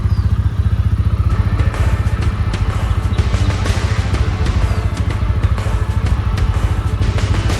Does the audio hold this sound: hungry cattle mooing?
no